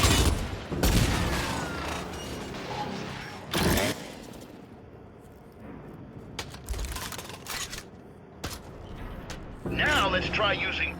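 Bursts of gunfire in the Gears 5 tutorial, loud sharp volleys spaced irregularly between stretches of quieter mechanical clatter, with voices talking in between.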